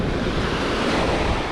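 Steady sea breeze roaring across open water with waves washing continuously, wind buffeting the microphone on a boat during a solo dive trip; loud and unbroken, no voices.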